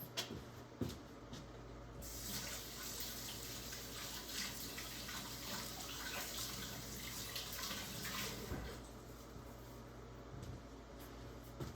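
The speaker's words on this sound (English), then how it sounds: "Rinse my gloves off." Tap water runs steadily for roughly ten seconds as gloves are rinsed in a kitchen sink, a continuous broadband splash with slight changes in flow, no talking.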